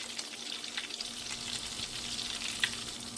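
Calamari and whiting fish frying in hot oil, a dense, steady crackling sizzle that stays close and even throughout, with one brief sharper pop near the end.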